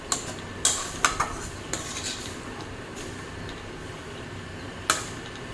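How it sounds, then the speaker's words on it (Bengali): A ladle stirs vermicelli pulao in a hot pan, scraping and clinking against the metal in a few sharp strokes over a steady low background hum, no voices. "সেই জন্য আমি এটা বারবার নাড়াচাড়া করছি"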